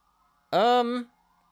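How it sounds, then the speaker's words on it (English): A passing emergency vehicle lets out a single short, loud, tonal siren whoop lasting about half a second, then it falls back to near silence. "here a siren, guys, so I'm gonna talk over it"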